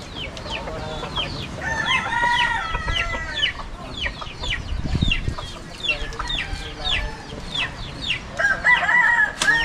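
A rooster crows repeatedly in a busy outdoor scene with hens clucking around it, several loud crows overlapping through the whole stretch, while people call out faintly in the background.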